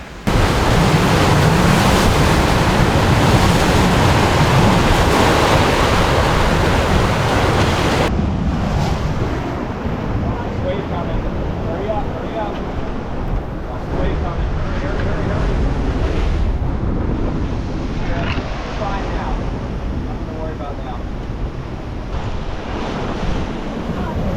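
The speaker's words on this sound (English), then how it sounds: "Watch the waves though." Ocean waves breaking on a shoreline during an iguana bowhunting trip, a continuous loud roar of surf with heavy wind buffeting the microphone, first very harsh and then slightly softer, with no talking.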